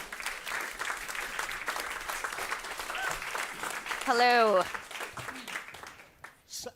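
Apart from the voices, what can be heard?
audience applause welcoming speaker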